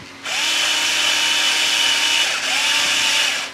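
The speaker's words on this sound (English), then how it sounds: "Again, I'm going to use my electric screwdriver." A cordless electric screwdriver whirs steadily for about three seconds while driving screws into an RC crawler chassis during a kit build, with a brief dip mid-run and a slight pitch rise at each end.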